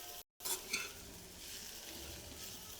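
A spoon stirs grated bottle gourd into sautéed chillies and salt in a pan for Gujarati dudhi sambharo, giving a soft, close scraping and sizzling sound with a couple of light clinks and a brief dropout near the start.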